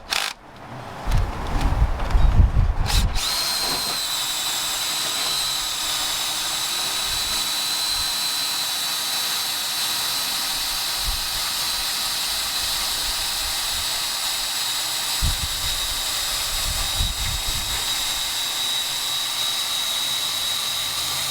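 A drill boring into an aluminum head bolt hole on a 2003 Toyota Highlander 2.4L engine, with a short loud burst at the start, then a steady high whine with a couple of brief louder pushes.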